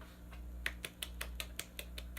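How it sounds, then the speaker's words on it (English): A sharp one-hand clap or snap repeated about nine times in a steady rhythm, close and fairly quiet against a low background hum. "I guess I can clap with one hand."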